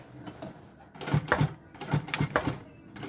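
A sewing machine stitching a bag closed, short whirring bursts of stitching that stop and start a few times, close by and fairly quiet.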